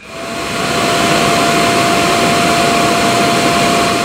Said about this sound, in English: So the vacuum just dumped whatever it vacuumed up into the base, and now it's charging.